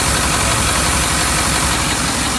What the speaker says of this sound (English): That's the air leaking.